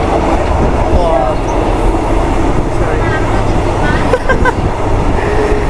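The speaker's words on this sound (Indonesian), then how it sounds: "Baru kita masuk lagi ke kereta yang saya naiki teman-teman" Steady rumble of an old wooden train carriage rolling along the rails on a cross-border line, with faint wheel squeals and clacks throughout and voices talking in the background.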